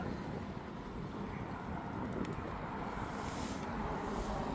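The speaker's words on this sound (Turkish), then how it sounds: "Hava biraz rüzgarlı" Steady wind rumbles against the microphone the whole time at a public beach in Erdemli, Mersin, a continuous low roar with no voices.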